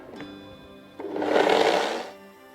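A kitchen appliance whirs briefly while mixing butter or margarine with white sugar and vanilla, a single close, smooth spin lasting about a second before cutting off.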